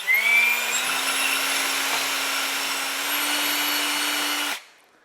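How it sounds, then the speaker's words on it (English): A power drill bores a marked hole in the valance of a 2018 Ford F-150 during an LED bar install, a steady loud whine that runs several seconds, then cuts off abruptly. "let's go ahead and take our drill and go right on our marked hole"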